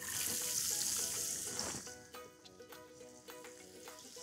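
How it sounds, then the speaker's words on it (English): Onions sizzling in a pan for aloo chakna: a bright hiss at first that settles into a softer fry with a few light clinks, fairly quiet, no talking. "then we put all the onions"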